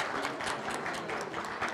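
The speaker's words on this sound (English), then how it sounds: "let's give like a round of applause" A classroom audience claps for students at the end of a zoning-for-equity course, a short burst of soft, steady applause from a modest group, fairly distant, with no talk over it.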